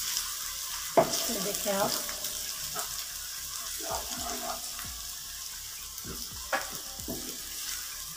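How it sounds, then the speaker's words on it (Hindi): Garlic and ginger paste sizzles and fries steadily in a pan while being stirred, with occasional scraping clinks and a short spoken remark partway through. "इसको अच्छे से हमने इस तरह हिलाते रहना है।"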